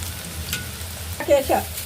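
Onions sizzle quietly in a hot pan with no tempering spices, over a low background hum, with a few brief tonal sounds near the end.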